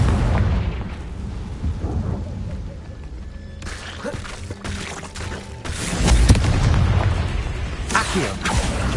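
Repeated spell blasts and booming explosions from Confringo fire spells in the video game Hogwarts Legacy, several loud bursts over a rumbling combat backdrop with game music.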